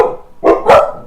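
Two quick barks from excited dogs at a monster truck race event, close and loud, over a steady mid-pitched background drone.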